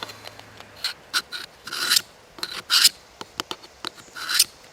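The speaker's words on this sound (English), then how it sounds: "So I'm going to dull up the edge right here on this rock." A Husky knife edge is scraped hard across a rock in a series of rough, rasping grinding strokes, some short and some drawn out, close up with no talking.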